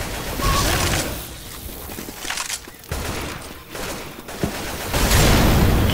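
Left 4 Dead 2 weapons firing in rapid, sustained bursts amid loud, dense game noise, with mechanical clicks and rattles mixed in.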